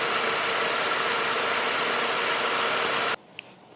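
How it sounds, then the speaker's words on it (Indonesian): A 1997 Mercedes-Benz C230 estate's roughly 2.2-litre engine idles steadily and loudly up close for about three seconds, then cuts to near silence with one faint tick. "Suara mesinnya bagus ya."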